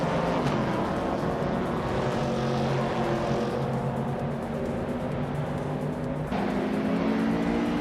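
A 1970 Dodge Challenger racing in a video game, its engine roaring steadily and loudly throughout with shifting pitch as it revs, and a brief change in tone near the end.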